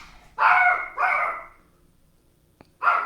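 A dog barks three times, loud and close, the first two in quick succession and a third after a short pause, with a faint click between them and no talk.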